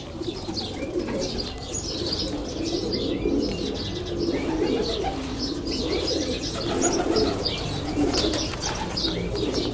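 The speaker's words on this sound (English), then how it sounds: "If you've ever wondered what it's like inside one of these pigeon towers" Pigeons coo inside a pigeon tower in Doha, Qatar, a dense close chorus of overlapping throaty coos mixed with chirps and occasional wing flutters, continuous and fairly loud throughout.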